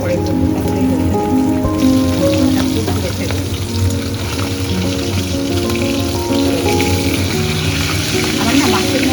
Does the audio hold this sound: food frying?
yes